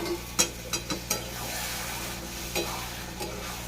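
Spices and ginger stir-fried in a pan with the spice-rinsing water poured around, a few sharp scraping stirs over a steady low sizzle, close and alone.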